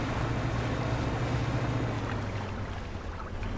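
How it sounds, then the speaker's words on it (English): Boat engine in the fishing game Dredge, a steady low motor hum with a faint tonal drone under soft water and wind wash, fairly quiet and even throughout. "I feel like the boat sounds different."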